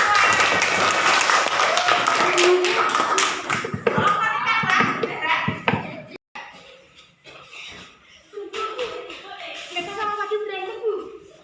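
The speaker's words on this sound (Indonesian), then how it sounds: "Tepuk tangan untuk kalian" A class of sixth-grade children claps in a classroom. Dense, close applause runs for several seconds, then thins into scattered claps and taps while voices chatter and laugh.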